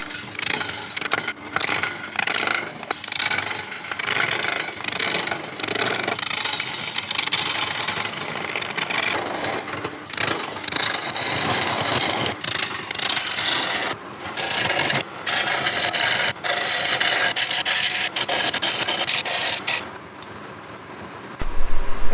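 Hackberry bowl blank spinning on a wood lathe while a gouge cuts it, giving a continuous loud scraping, rasping roar with uneven surges, then dropping away near the end.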